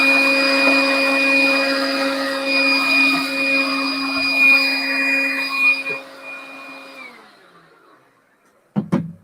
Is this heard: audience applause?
no